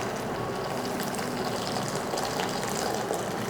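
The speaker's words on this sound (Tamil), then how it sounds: "பாருங்கள், மூடி எப்படி பிடிச்சிக்கிட்டு அழகாக இந்த தண்ணியை சூப்பராக வடிச்சிடலாம்." Hot pasta cooking water pours in a loud, continuous gush from a pot tilted with its lid held in place, drained without a break and with no voices.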